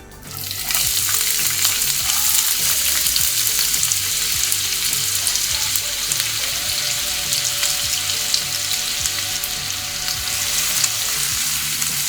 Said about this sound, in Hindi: प्याज को हमें हल्का गुलाबी होने तक के ही फ्राई करना है